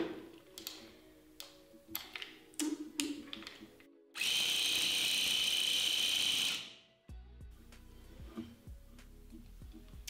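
A handheld tufting gun punches yarn into stretched carpet backing fabric in one loud, steady mechanical burst of about two and a half seconds, set between quieter tapping and handling noises.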